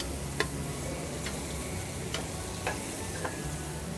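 Mushrooms sizzling in a pan alongside chicken breast, a continuous hissing fry punctuated by several sharp clicks and taps of a utensil, no speech.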